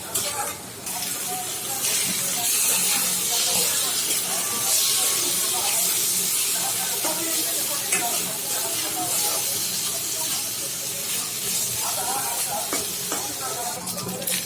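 Shing fish roe cooked down in a pan is fried dry and sizzles with a loud, continuous hiss and crackle for the whole stretch, with occasional stirring scrapes and faint voices in the background.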